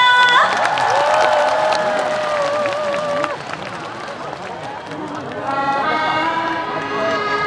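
Concert crowd at the 2025 Powerful K-Trot Festival cheers and claps for a trot singer, loud and close, with shouting voices and tonal sounds layered over the roar, dipping midway before swelling again.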